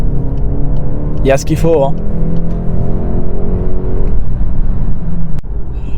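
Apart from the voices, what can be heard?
Volkswagen Golf 8 GTE hybrid accelerating on motorway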